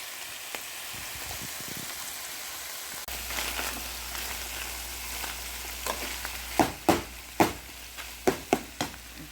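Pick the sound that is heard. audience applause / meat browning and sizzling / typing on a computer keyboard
meat browning and sizzling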